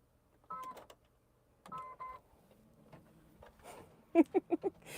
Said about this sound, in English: Fully automated needle threader.